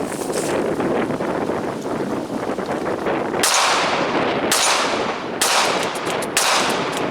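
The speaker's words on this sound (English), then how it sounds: "I shot 50 rounds through my Ruger LCP 380." Shots from a Ruger LCP .380 pistol fired outdoors, a few loud sharp cracks in the second half over heavy wind rumble on the microphone.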